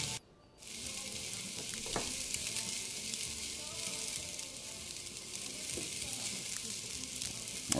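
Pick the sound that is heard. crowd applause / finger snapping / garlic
garlic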